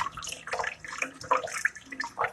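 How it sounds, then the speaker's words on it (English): Raw chicken is rinsed under hot running tap water, giving an uneven splashing and trickling sound in close bursts, with no voices. "I'll just rinse it off in hot water real quick."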